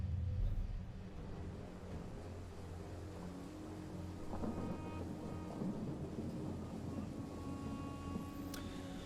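Rain falls in a Total War Saga: Troy battle, a steady wash with low rumbling thunder beneath, holding evenly across the whole stretch.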